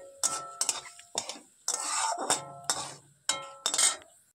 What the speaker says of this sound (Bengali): একটা মুগ ডাল দিয়ে দিয়েছিলাম, তো ওটা একটু ভালো করে একটু ভেজে নিয়েছি